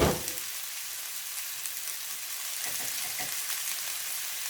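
Onions and peppers sizzle steadily in a hot pan while being stirred, a dense, even frying hiss with faint scraping movements and no voices.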